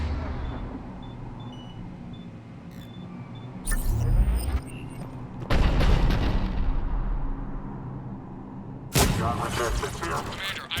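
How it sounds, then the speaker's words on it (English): Cannon fire in the video game Mass Effect Legendary Edition, heard as heavy booming blasts that punch through a constant low rumble of battle, with several loud bursts spread across the scene. "The cannon fire is clearing the way"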